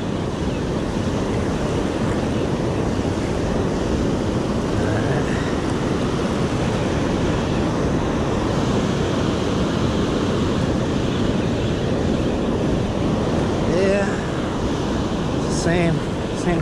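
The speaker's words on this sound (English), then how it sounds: "Let the waves bring him in." Ocean surf breaks continuously on a beach during surf fishing for surfperch, a loud, steady wash of waves mixed with wind buffeting the microphone throughout.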